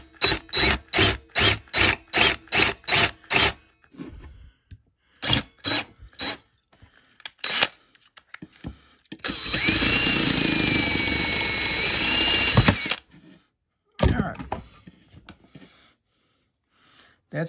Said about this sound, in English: I think I can drill it out